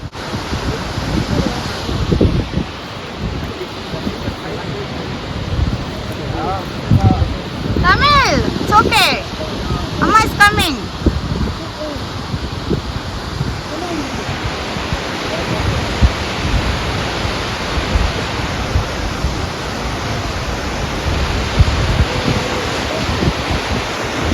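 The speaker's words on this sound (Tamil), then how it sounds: "அங்கே பாருங்கள் குட்டியாக ஒரு ஃபால்ஸ் போகுது அதோட சலசலப்பு வந்து நல்லா சவுண்டாகவே கேட்குது" A small waterfall near the Golden Skybridge suspension bridge in Golden, Canada, rushes as a steady hiss, partly masked by gusty wind buffeting the microphone, while a person talks over it.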